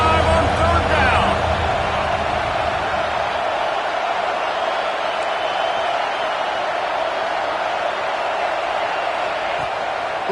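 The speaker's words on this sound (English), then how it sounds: "The Buckeye crowd alive on 3rd down." Ohio State Buckeyes football stadium crowd roaring on a third down, a broad, sustained wall of cheering that swells early and stays loud beneath a commentator's talk.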